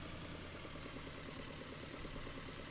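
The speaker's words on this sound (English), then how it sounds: "Sounds like a proper, like, generic tractor." Tractor engine idling in the video game Farming Simulator 19, a steady low knocking diesel chug with even rhythmic pulses, constant and unbroken, fairly quiet.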